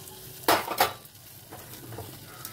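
Potatoes dropped into a spoonful of hot oil with panch phoron: two quick splashy bursts, then a faint, steady sizzle close by.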